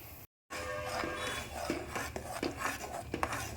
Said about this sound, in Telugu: ఒక చేత్తో బొంబాయి రవ్వను పోసుకుంటూ ఒక చేత్తో గరిటితో తిప్పుకుంటూ ఉండలు లేకోకుండా